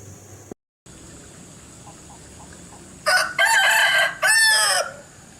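A rooster crows loudly and close by in a dramatized biblical-era courtyard scene, with several drawn-out calls in quick succession rising out of a quiet background.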